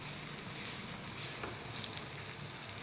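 Onion bread pakoda frying in hot oil, a steady close sizzle with fine crackling running through the whole stretch, no voices.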